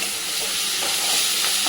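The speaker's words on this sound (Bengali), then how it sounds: "তারপর একটু নেড়ে চেড়ে নেব।" Onions frying in a pan with a pinch of sugar are stirred, a steady loud sizzle with faint scraping strokes, close up and without talk.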